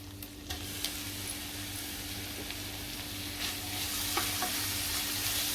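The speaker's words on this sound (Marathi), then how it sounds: "आता आपण लसूण परतूया बटरवरती. आता कांदा घालूया." Onion being added to garlic sizzling in butter for a vegetable pink-sauce macaroni pasta, a steady soft frying hiss with a few light clicks and crackles, growing slightly louder toward the end.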